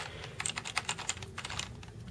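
Steady, close typing on a Logitech Wave Pro keyboard, a quick run of light, even key clicks with no talking over it.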